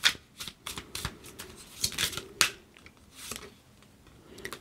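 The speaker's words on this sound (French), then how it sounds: "On va prendre encore 2 cartes et on va voir." Tarot or oracle cards being shuffled and drawn during a card reading: a string of crisp, close papery flicks and slaps in irregular bursts, fairly quiet, with no talking.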